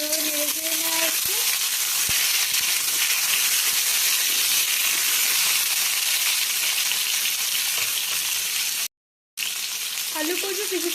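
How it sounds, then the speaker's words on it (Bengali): Taro and potato pieces sizzling and frying in a wok as they are stirred, a loud, continuous hiss with occasional scrapes of the spatula, close and steady with a brief cut near the end. "কচু, আলু কচু দিয়ে ভালোভাবে নেড়ে চেড়ে নেওয়া হচ্ছে।"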